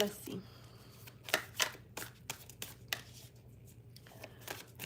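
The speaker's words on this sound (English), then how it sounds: "Give the deck a shuffle." A tarot card deck being shuffled close by, giving a quick series of soft, papery riffling bursts and flicks, quiet, with faint talk in the background.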